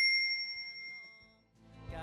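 Bright notification bell ding rings out once at the start and decays slowly over about a second, followed by a soft rustle.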